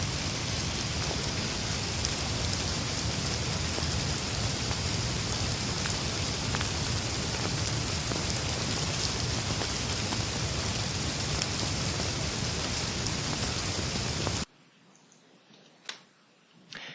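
Steady, dense summer rain pours down for a long stretch as an even hiss, then cuts off, leaving a few faint drips and knocks.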